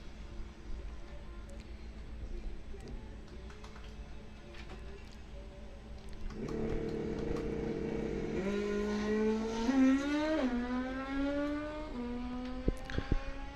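A 1994 Kawasaki bracket-racing motorcycle at Coles County Dragway launches down the drag strip, its engine rising from a steady drone into a loud, climbing whine with rapid gear-change pitch steps before fading downtrack.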